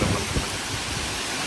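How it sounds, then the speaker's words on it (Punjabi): Heavy rain pouring down during a dark downpour over a farm field, a dense continuous hiss with a low rumble that fits distant thunder, loud and steady throughout with no voices. "ਇਦਾਂ ਧੂਆਂ ਬਣ ਕੇ ਮੀਂਹ ਆ ਰਿਹਾ"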